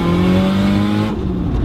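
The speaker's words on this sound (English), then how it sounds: "And there's that wastegate." Loud turbocharged 325 kW Nissan S14 under full boost, its engine roaring steadily up close before a brief rushing whoosh from the wastegate near the end.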